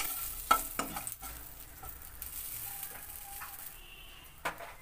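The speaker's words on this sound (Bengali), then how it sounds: "এই কালো জিরেটাকে আমি একটু হাতা দিয়ে একটু ঘষে দেব" Nigella seeds rubbed with a ladle in a pan, soft scraping and light clicking taps over a faint steady sizzle, quiet and close with no talk.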